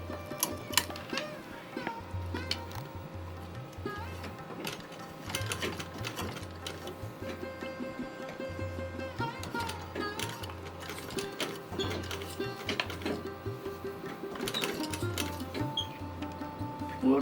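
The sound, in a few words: sewing machine stitching fabric for a Laddu Gopal dress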